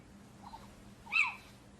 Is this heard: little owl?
yes